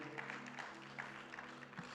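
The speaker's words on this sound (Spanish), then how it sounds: "Y le da más fuertes aplausos al Rey de Gloria." Congregation applauding at a church service led by a pastor, a steady wash of clapping from many hands with a low sustained tone beneath, moderately faint and continuous.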